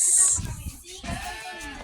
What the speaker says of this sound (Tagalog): oh, look, may tupa guys